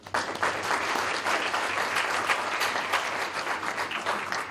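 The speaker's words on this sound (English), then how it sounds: "Let's clap hands for Networx." An audience applauds at a work readiness programme feedback event, a dense, steady round of clapping that holds for several seconds, close and fairly loud.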